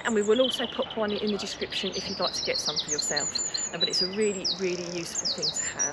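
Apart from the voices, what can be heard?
birds singing at an allotment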